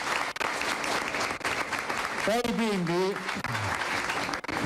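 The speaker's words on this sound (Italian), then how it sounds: "Questi sono tutti applausi per voi, ricordatevi gli applausi, eccoli qua." An audience gives continuous applause for schoolchildren from a Don Bosco school, steady clapping throughout with a voice briefly calling out over it midway.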